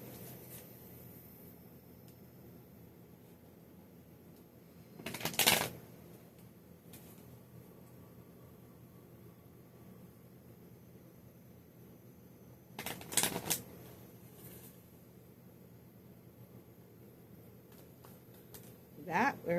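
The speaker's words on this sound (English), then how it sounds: "Let's pull some moon cards." Moon oracle cards are shuffled in a quiet room, with two distinct riffling bursts several seconds apart and a third starting at the very end over faint background noise.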